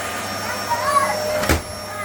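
A Dyson DC04 vacuum cleaner, bought secondhand and running with no suction, gives a steady, close, moderately loud drone with a faint whine on top and one brief bump partway through.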